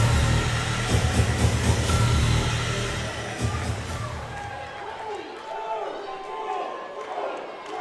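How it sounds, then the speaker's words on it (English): Arena crowd at an independent wrestling title match roars loudly and steadily, a dense wall of cheering that thins after a few seconds as a commentator's voice talks over it. "Listen to the crowd."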